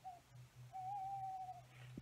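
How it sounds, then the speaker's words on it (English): An owl hooting at dawn near a campsite on the Ystradfellte Four Falls Trail, one short hoot and then a longer steady hoot, faint and distant over a low background hum. "I've never heard so many owls"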